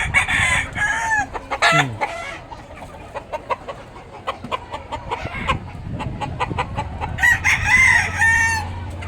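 A rooster being caught at a farm while testing birds, with loud crowing and agitated clucking bursts amid scuffling, close and repeated throughout the struggle.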